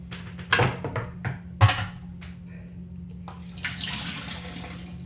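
Tomato seeds are swirled under running tap water in a sink, with a few sharp splashing bursts early on and a steadier, brighter rush of flowing water toward the end.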